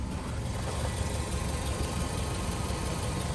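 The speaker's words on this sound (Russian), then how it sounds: "Кстати, сейчас заведен мотор." The 1.6-litre engine of a 2012 Suzuki SX4 idles with a steady, smooth low hum and faint vibration, heard close and alone.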